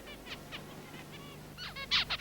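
Zebra finches giving short, bright chirps and nasal calls in quick bursts, soft at first and growing louder near the end, over a faint low hum.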